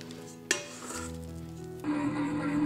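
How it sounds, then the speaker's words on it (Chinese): A stand mixer kneads bread dough with softened butter at medium speed, producing a steady motor hum and churning, with a sharp knock early on and a louder, higher-pitched whir after a speed change. "就可以加入软化的黄油，继续中速搅拌。"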